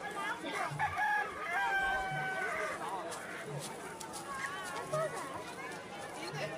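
A partridge calls among caged birds at the Fiera degli Osei bird fair in Campodarsego, Padova, giving short, sharp cries over a steady background of crowd chatter and other birds.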